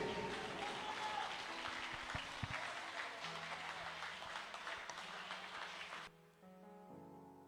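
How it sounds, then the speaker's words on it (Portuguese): A congregation at an Easter church service applauds in a thick, continuous roar of clapping that cuts off after about six seconds, leaving sustained musical tones sounding alone. "Aplauda o nome dele"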